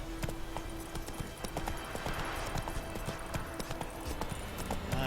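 A horse gallops through tall wheat in the video game Witcher 3, its hooves keeping an even clip-clop rhythm over a constant rustle of parting stalks, steady throughout with no voices.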